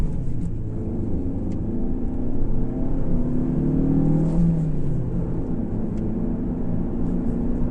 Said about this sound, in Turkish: Şuradan bir 0-100 yapalım bu arada. Evet arkadaşlar şu an sıfırdan hafif eğimli bir yerdeyiz. Tip gaz yaptım.